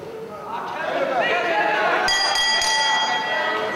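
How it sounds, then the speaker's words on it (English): Wrestling ring bell clanging sharply at a 3 stages of hell match, two or three bright metallic rings ringing out over a noisy arena crowd and commentary. "The bell sounds"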